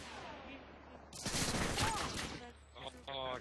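Gunfire from a shooting video game, a dense burst of rapid shots from about one to two and a half seconds, loud over a quieter background, with a shorter burst near the end.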